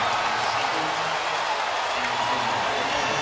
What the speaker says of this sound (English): And this crowd going crazy.